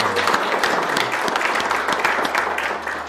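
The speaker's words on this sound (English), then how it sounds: "give him a round of applause" A crowd at a Republican party gathering applauds, a dense, even burst of clapping heard close and fairly loud throughout the short stretch.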